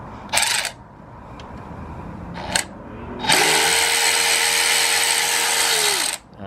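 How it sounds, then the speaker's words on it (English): Ratchet loosening the bolts that hold the front brake parts on a Honda Super Cub C125, with short clicking bursts followed by a sustained loud whirring run at close range. "you gotta remove these 2 bolts right here"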